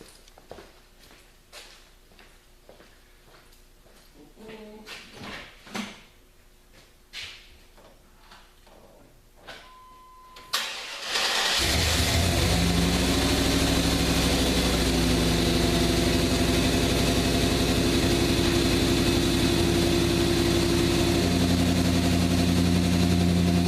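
A Chevrolet Suburban in a garage is quiet at first with scattered ticks and clicks, then the engine cranks and catches abruptly, settling into a loud, steady rumbling idle that holds to the end.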